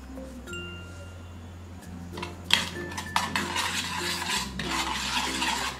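Chicken BBQ roll filling seasoned with oregano being mixed in a pan off the heat, with a low hum at first, then clinking spoon-on-pan scrapes and stirring clatter that grow busier toward the end, no voices.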